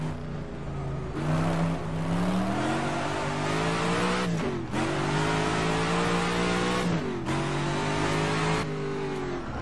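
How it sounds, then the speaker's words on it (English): An AC 427 Shelby Cobra's engine in rFactor 2 roars and revs hard, with pitch climbing and dropping sharply at each gear shift, loud and continuous. "The transmission sounds for this car also are pretty nice."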